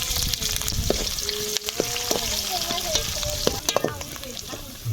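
Onions and chillies fry in hot oil with mustard seeds, a continuous close sizzle broken by scraping clinks and knocks of a spoon stirring against the pan.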